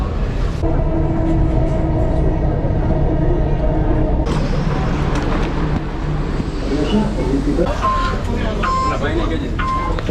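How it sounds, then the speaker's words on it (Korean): A Dubai Metro train rides along with a loud, continuous rumble and rattle of the carriage, shifting partway through, as a voice talks over it and brief chimes sound near the end. "두바이 지하철은 참 잘 만들어진 것 같아요"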